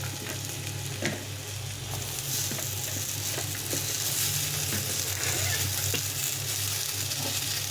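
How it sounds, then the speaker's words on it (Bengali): Potato and eggplant pieces frying in oil in a pan, a loud and continuous close sizzle with occasional sharp pops and crackles, and a low hum running underneath throughout. "বেগুনটা একটু ভেজে ভেজে নেব আলুর সঙ্গে"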